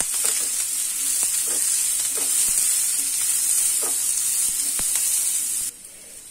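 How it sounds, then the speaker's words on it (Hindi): Onions frying in a pan for a masoor dal snack: continuous bright sizzle with scattered stirring knocks up close, then the sizzle drops off sharply at the very end. "प्याज जब हल्का सा भून जाएगा, इस तरह का कलर हो जाएगा"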